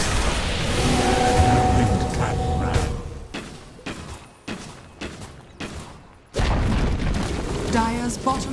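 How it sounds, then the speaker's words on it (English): A tower falling in Dota 2 gives heavy booms and thuds, a dense crashing burst that breaks into separate impacts and is followed by renewed loud battle sounds. "Bottom tower has fallen."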